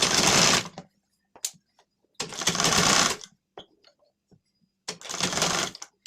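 Sewing machine stitching a blouse sleeve in three bursts of rapid close whirring, with quiet handling clicks in the pauses between runs.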